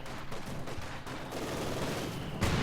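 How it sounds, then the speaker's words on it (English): Mortar shells firing and crashing down in a Company of Heroes 2 one-versus-one battle, a dense, continuous run of overlapping thuds and blasts with a heavier impact near the end. "More mortars coming down."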